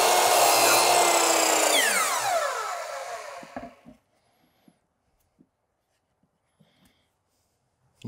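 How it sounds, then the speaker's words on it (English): A power saw cuts a small miter in a piece of curved wood molding with a loud, close whine that winds down over a few seconds, followed by near silence and a few faint clicks and knocks. "I'm going to cut a little miter on this guy."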